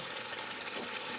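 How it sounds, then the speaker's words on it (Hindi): Chicken pieces for chicken karahi fry in a pan over a medium-high flame, giving a soft, continuous sizzle and crackle that stays faint and even throughout, with no talking. "हम मीडियम हाई फ्लेम के ऊपर चिकन को इस तरह से फ्राई करेंगे 7 से 8 मिनट के लिए"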